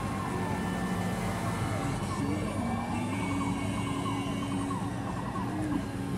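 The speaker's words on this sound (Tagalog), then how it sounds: "Kasabay pa namin mga fire truck na yan" Fire truck sirens wail through traffic in San Juan, a rising and falling tone sweeping repeatedly over the rumble of vehicles, moderately distant and continuous.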